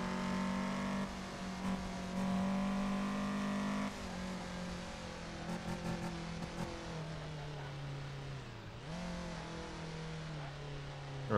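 A car engine revs and pulls hard, its steady droning tone rising and dipping in pitch as it accelerates, loud and continuous with no talking.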